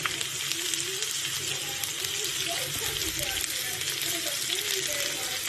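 Onion fries in a little oil in a home kitchen, giving a steady, even sizzle that continues throughout, with someone speaking over it.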